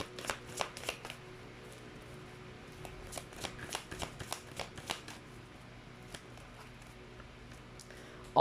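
Tarot cards being shuffled by hand, a steady patter of quick riffling snaps and soft slides in short bursts, close and moderately loud, with no talking over them.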